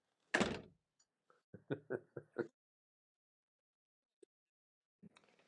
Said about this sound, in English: the door is shutting.